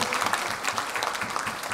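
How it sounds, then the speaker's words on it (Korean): Audience clapping at a singer's album launch concert, a brief, loud, dense round of applause with rapid overlapping claps. "여러분께서 박수 한 번만 강하게 쳐주시면 감사합니다"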